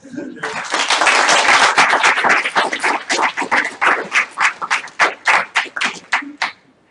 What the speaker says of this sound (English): I hope you can hear all that applause